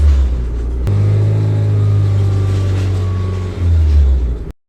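Honda Fit engine with a TP sensor fault and trouble code P0122, revving up from idle as a loud, steady low rumble, close by, with no talking.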